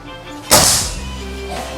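A single sharp pellet impact from a Daystate airgun with a wooden stock, fired at a target outdoors, hits as one loud crack followed by a short fading thud, with quiet background before.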